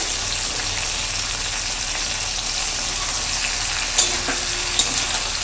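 Drumstick stems fry with poppy seed, ginger and ripe green chilli paste in a pan, giving a steady crackling sizzle, with a couple of sharp utensil clinks near the end.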